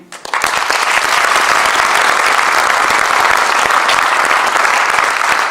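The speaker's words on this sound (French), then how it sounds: "On peut l'applaudir." A concert audience breaks into sustained, dense applause that holds steady and loud throughout, close-up and crowded, with no one talking over it.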